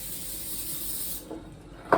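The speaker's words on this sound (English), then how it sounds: "We're gonna spray this pan" Cooking spray hisses steadily onto a pan for over a second, a close, bright aerosol rush, followed by a couple of faint knocks as it stops.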